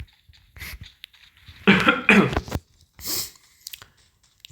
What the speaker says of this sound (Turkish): Çok öksürük ses. Uzakta öksürdüm.